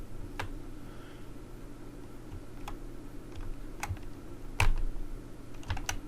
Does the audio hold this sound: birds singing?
no